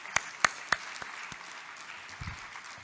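Scattered applause from an audience at a GET.invest matchmaking awards ceremony: a few sharp, distinct claps stand out at the start over a soft, distant patter that thins and fades.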